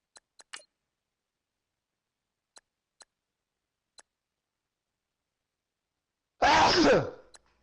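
A single loud, close sneeze bursts out near the end after near silence broken only by a few faint clicks.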